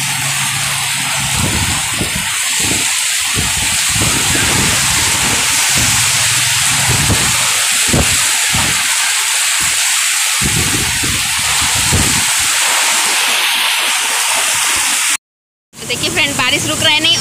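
Steady broadband hiss of rain fills the clip, with muffled low thumps and movement underneath, cutting out briefly near the end before resuming.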